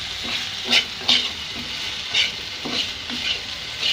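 A bitter gourd stir-fry fries uncovered in a pan, sizzling steadily up close while a spatula stirs and scrapes it in repeated strokes, with no voices.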